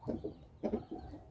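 A young rooster on a small farm gives short, low clucks, heard as a few soft, close bursts in quick succession.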